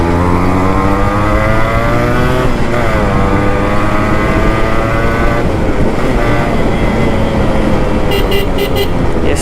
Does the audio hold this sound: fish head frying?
no